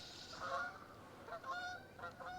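A goose honks several times from a short distance near a fishing spot outdoors, the calls rising in quick separate bursts over faint background noise.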